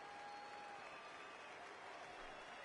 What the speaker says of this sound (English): don't you hear your crowd?